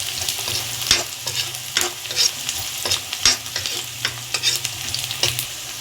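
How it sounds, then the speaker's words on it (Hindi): Chopped red and green chillies frying in a pan over medium gas for semolina upma, a bright crackling sizzle broken by repeated spoon scrapes and taps, near and steady with no voices. "ये देखिए, इसको फ्राई कर रही हूँ।"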